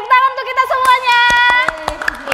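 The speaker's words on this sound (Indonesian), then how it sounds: "tepuk tangan untuk kita semuanya" Online Sunday school service: a scattered round of hand claps from a small group, sharp and close, over sustained music and speech.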